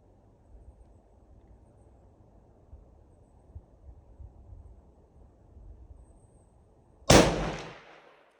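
.338-06 rifle fired at a shooting range, a single sharp, loud shot near the end after quiet ambient noise, followed by a short decaying echo.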